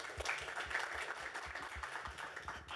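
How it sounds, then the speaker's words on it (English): An audience at a live alumni event applauds, producing faint, fairly distant clapping with a loose, uneven rhythm of many hands that holds steady before trailing off. "Round of applause for Morgan, please"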